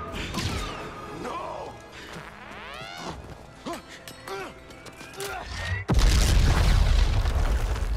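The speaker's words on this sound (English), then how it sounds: "we ate that explosion" A loud explosion in Star Wars Jedi: Survivor crashes in near the end with a heavy boom and sustained rumbling roar, following tense dialogue, swooping sci-fi effects and clattering impacts.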